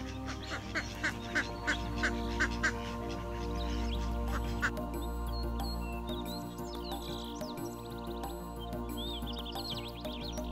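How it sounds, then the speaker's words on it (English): Geese at a lakeside honk and call in a run of loud, rhythmic bursts, followed by quieter overlapping quacks and chatter from waterfowl over a low background hum. "the geese call out to everyone to head down to the lake to start their day"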